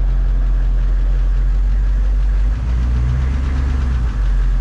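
A Humvee's engine idles close by with a deep, steady low rumble and a faint knocking texture, swelling slightly in the second half, with no voices.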